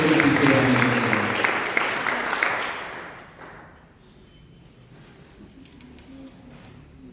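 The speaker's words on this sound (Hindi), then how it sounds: "आइए हम प्रभु के दास का तालियों के द्वारा स्वागत करेंगे।" Church congregation applauding to welcome the pastor: a dense burst of clapping that fades out after about three seconds, leaving quiet room noise with faint voices.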